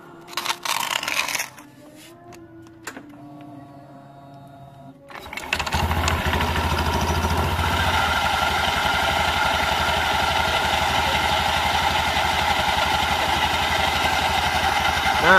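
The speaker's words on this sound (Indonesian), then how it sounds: "Nah, suaranya kasar seperti ini" After a few seconds of quiet handling, a Honda Beat scooter engine starts and idles steadily with a rough, buzzing tone, close and continuous.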